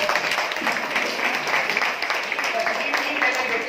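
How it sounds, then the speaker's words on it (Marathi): Audience applause welcoming a guest at a Marathi language fortnight event, a dense, steady wash of many hands clapping throughout, fairly close and even in loudness with no pauses. "तर सर्वांनी त्यांचं स्वागत टाळ्या वाजवून"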